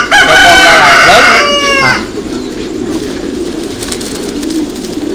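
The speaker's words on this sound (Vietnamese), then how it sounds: "Loại bồ câu là bồ câu của Thái siêu thịt" Thai super-meat Titan pigeons on a pigeon farm, with a loud burst of bird calls and harmonic crowing-like notes for about two seconds, then a steady low cooing and flock murmur continuing quietly behind.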